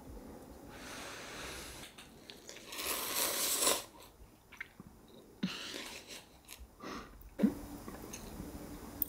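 Close, wet slurping and chewing of Vietnamese food come in irregular bursts with sharp sniffs and breaths between mouthfuls, loud against a quiet room.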